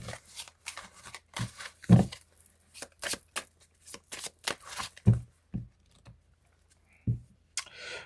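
A deck of tarot cards being cut and handled on a table during a French reading, with crisp, irregular card slaps and riffling taps that come close and clear between pauses.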